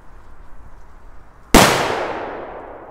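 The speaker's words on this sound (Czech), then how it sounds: "já už tady mám připravenou jednu petardu, jdeme si ji odpálit" A Big Bang firecracker, a small 0.2-gram banger, goes off outdoors in one sudden loud crack after a quiet lead-in, followed by a long fading echo.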